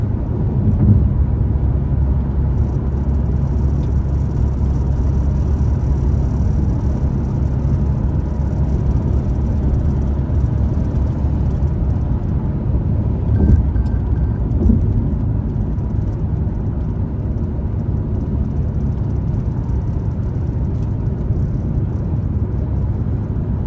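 Steady low rumble and road noise of a car cruising along a highway on a drive toward Arizona, continuous and even throughout with faint high whine, no voices.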